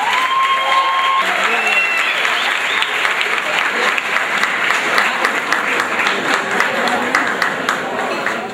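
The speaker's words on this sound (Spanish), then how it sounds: "por favor, acompáñenme en un fuerte aplauso" Sustained audience applause fills a formal fashion show gathering in Costa Rica, steady dense clapping for the full stretch with a murmur of voices and some speech under it.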